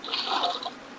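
A short hissing splash of water as a bucket is emptied in the Minecraft video game, a single brief whoosh lasting under a second at moderate loudness.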